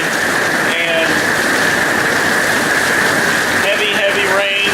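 Heavy rain during Hurricane Irma, a dense, loud, steady hiss of rain hitting surfaces, constant throughout, with brief tonal sounds and a voice faintly underneath.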